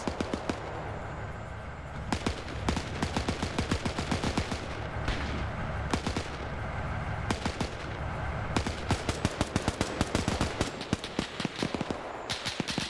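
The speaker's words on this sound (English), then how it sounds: ".50 cal shooting at something up here." .50 cal machine gun firing in a WW2 shooter game, long rapid bursts of heavy rattling shots, some distant and some close and loud, with scattered gunfire between the bursts.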